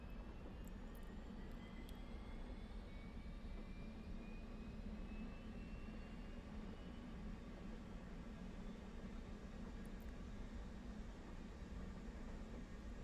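The APU of an F/A-18 running during a cold start in the DCS flight simulator, a steady, even turbine whine and rumble that holds constant the whole time, moderately quiet, with faint rising tones and no voices.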